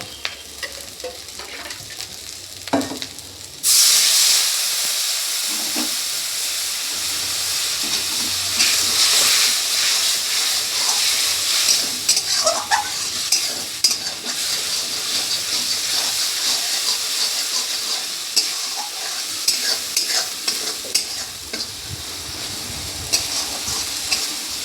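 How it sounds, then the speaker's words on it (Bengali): Spice paste with turmeric sizzles and crackles loudly in a hot pan after a quiet start, a steady bright frying hiss with occasional scraping stirs throughout. "আর দিয়ে দেবো হলুদ। এটাকে ভালো করে কষিয়ে নেব।"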